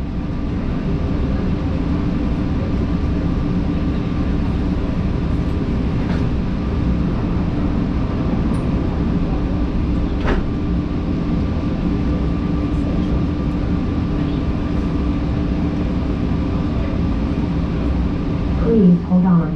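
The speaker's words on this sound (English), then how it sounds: "This train is bound for Rental Car Center." Steady low rumble of the Phoenix Sky Harbor Airport shuttle train running smoothly, with faint clicks and rattles throughout and no prominent talk.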